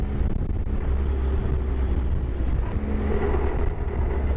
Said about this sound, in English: When you decelerate, when you come off the gas, it makes a little bit of a noise there, like on the overrun.